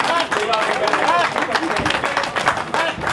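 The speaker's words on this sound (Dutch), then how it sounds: "Dames en heren, geef ze een applaus, soignez." Crowd applause for the winner of an elite women's cycling race in Dottignies, dense continuous clapping with a murmur of voices and talking mixed in throughout.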